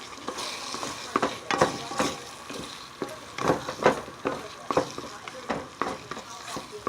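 Lobster and shrimp Newburg with cream bubbling in a pan on the stove, a steady soft sizzle broken by sharp scraping and clicking stirs at an irregular rhythm, close and moderately loud.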